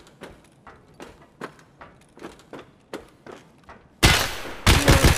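Video game gunfire: a series of sharp, moderately loud shots spaced about half a second apart, followed by a louder burst of noisy crackle at the end, with no talk.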